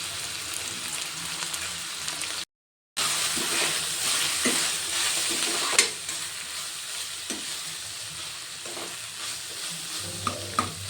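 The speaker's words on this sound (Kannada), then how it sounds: "ಡ್ರೈ ಆಗೋವರೆಗೂ ನಾವು ಫ್ರೈ ಮಾಡ್ಕೋಬೇಕು. ಇದು ನೋಡಿ, ಮೆಂತ್ಯ ಸೊಪ್ಪೆಲ್ಲ ಚೆನ್ನಾಗಿ ಫ್ರೈ ಆಗಿದೆ." Fenugreek leaves frying in a pan for a methi and green peas kurma: a steady, close sizzle with scraping stirring strokes, briefly cut off near the start, then continuing.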